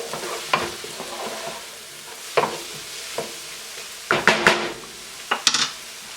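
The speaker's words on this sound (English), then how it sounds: "We're just going to stir this up, let all those flavors marry." Garlic with salt and pepper stirred in a frying pan, a soft background sizzle broken by scraping utensil strokes and clanks against the pan, clustering toward the end.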